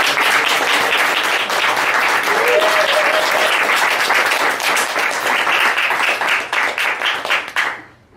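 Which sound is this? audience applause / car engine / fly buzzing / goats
audience applause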